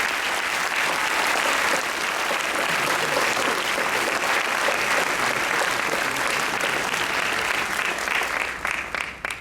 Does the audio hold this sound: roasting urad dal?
no